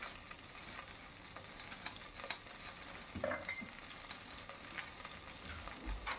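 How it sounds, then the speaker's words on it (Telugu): Dried red chillies and curry leaves fry in hot oil for a Rayalaseema-style rasam, a steady low sizzle running throughout with scattered small crackles and pops, fairly faint, and no talking. "కొంచెం కరివేపాకు వేసి బాగా వేయించుకుంటున్నానండి"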